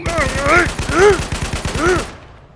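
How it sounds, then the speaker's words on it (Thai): Rapid, evenly spaced bursts of automatic gunfire from bandits attack a vehicle in the zombie video game Zombies War, continuing for about two seconds while game voices shout over the shots. "เราถูกยิง ลงมาจากรถก่อนเร็วๆเข้า"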